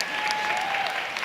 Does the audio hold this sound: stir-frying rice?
no